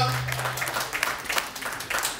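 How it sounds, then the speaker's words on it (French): A church congregation at an evangelical assembly in Queens applauds warmly, with brisk, overlapping claps across a short burst in a reverberant hall. "nous demandons pour applaudir très chaudement pour nous-mêmes"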